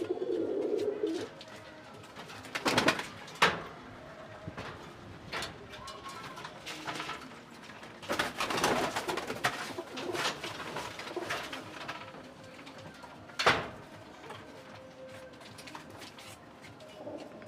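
Domestic pigeons kept for sale coo in a loft, with soft, low rolling calls mixed with clicking, rattling mechanical noises and scattered sharp bangs, fairly close, with no talk.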